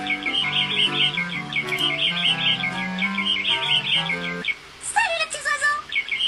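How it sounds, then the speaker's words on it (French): Small birds chirp and tweet in the video game Panique à Mickeyville, a rapid run of repeated calls over soft background tones, ending with a brief higher trill, with no talking. "Salut les petits oiseaux."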